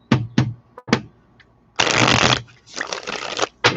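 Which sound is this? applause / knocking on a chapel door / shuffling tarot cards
shuffling tarot cards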